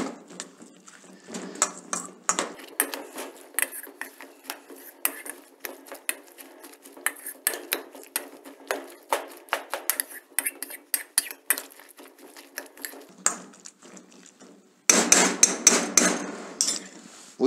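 Minced mutton and garlic mixed by hand in a bowl for a mutton consommé, heard as a long run of irregular wet clinks and taps of a utensil against the bowl, moderately close, with a brief pause before a louder final burst.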